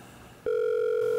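A telephone line sounding during a call: a single steady electronic tone starts abruptly after a short pause and holds evenly for most of a second before cutting off, loud and close.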